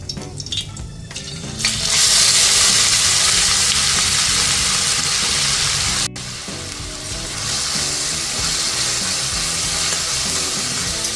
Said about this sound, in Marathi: कांदा व्यवस्थित परतून घ्यायचा.